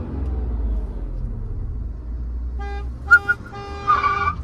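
A Tata Punch or Tiago car horn toots a few short times in street traffic, with engine rumble underneath and a longer blast near the end.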